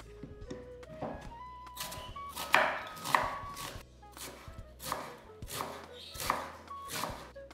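A knife chops grated carrot into small cubes on a board for a meat-free stuffed cabbage pie, giving steady close, crisp strokes at a brisk irregular rhythm with no talking.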